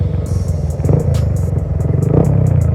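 A Yamaha Y15ZR motorcycle fitted with an aftermarket exhaust and small rims revs loudly and close by, its engine rising in quick rhythmic pulses over a rough rumble.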